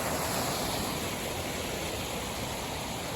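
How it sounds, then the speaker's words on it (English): A large waterfall in a redwood forest in the Coast Miwok Redwoods Preserve on the California coast, heard as a steady, loud broadband roar of rushing water that stays constant throughout with no voices. "this is a pretty big waterfall and spectacular trees"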